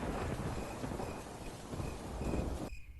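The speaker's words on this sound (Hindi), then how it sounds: "बरसात को मौसम चालू हो चुका है" Monsoon-season thunder and heavy rain roll on as a continuous loud rumble and hiss, the storm noise ending abruptly near the close.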